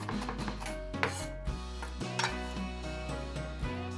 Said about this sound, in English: I'm using a knife to chop this as finely as possible